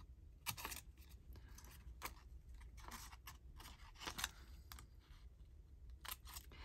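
Scissors snipping through paper and ephemera at a craft table, a series of quiet, crisp irregular cuts and rustles close to the microphone with no talking.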